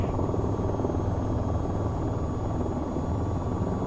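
An AH-94 attack helicopter in the VTOL VR flight game flies steadily, producing a loud, continuous rotor and engine drone with a faint high whine and no talk over it.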